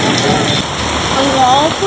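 Rain falls steadily in Mumbai, a broad close hiss with faint voices murmuring underneath.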